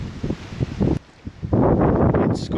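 Strong gusts blow through a valley at a miniature 7¼-inch railway on a late autumn day, a rough broadband roar that dips briefly then surges back loud and sustained, buffeting the microphone.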